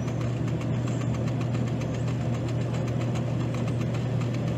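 A refrigeration cooler's compressor unit running continuously, a steady close mechanical hum with a strong low drone and constant vibration throughout.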